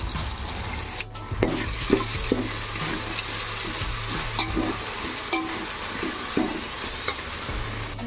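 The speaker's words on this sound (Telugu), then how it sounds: "అల్లం వెల్లుల్లి పేస్ట్ పచ్చివాసన పోయే వరకు ఫ్రై చేసుకున్నాము" Fresh ginger-garlic paste frying in a pan for chicken biryani, a steady close sizzle with clinks and scrapes of stirring throughout, no talking.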